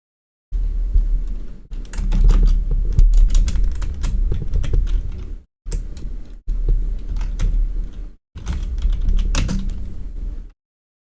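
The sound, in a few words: typing on a keyboard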